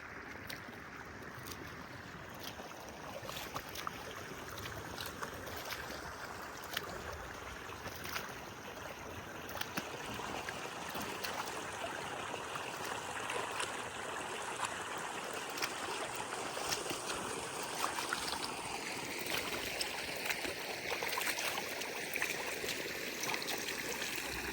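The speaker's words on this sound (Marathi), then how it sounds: "पाणी" Water flows steadily in a continuous rushing wash that holds at an even level throughout, with no voices.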